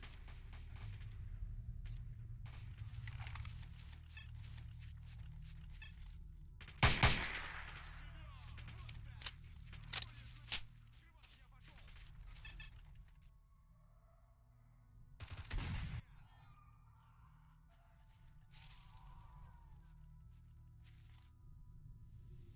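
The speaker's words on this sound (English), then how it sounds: "Little firefight between bandits" Gunfire from a firefight between bandits and stalkers in the game S.T.A.L.K.E.R.: Shadow of Chernobyl, scattered shots crackling at a distance over a low rumbling ambience, with two louder bursts standing out close by.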